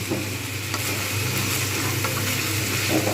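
Green beans fry in a pan with poppy seeds, salt and turmeric, giving a steady, close sizzle with faint stirring scrapes throughout and no voices.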